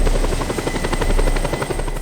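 Helicopter in the video game Just Cause 2, a steady close rotor thump with fast regular blade pulses and engine whine that stays loud and constant throughout, with no voices.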